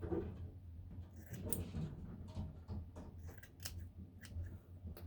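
Scissors or trimmer snipping through a long, unruly beard over a sink, a run of close, crisp cutting clicks repeating irregularly with light rustling.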